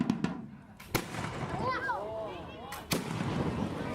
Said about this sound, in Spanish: y hace el ruido de un fusil de la época.